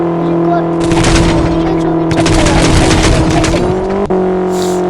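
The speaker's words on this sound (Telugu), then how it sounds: "నేను ఇప్పుడు గుద్దేశాను ఆ ఆడి కార్ని." A car slams into an Audi in a 3D driving video game: a steady engine drone with bursts of crunching impact noise, and a sharp single hit near the end.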